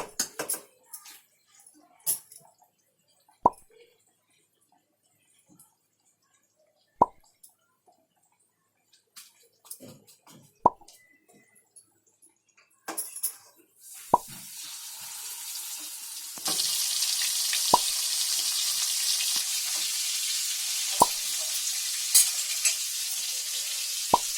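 Bangda mackerel fish slid into hot oil for a Konkani fish fry: a few sparse clinks and taps, then a sudden loud, steady sizzle that swells further and keeps crackling close by, with no talking.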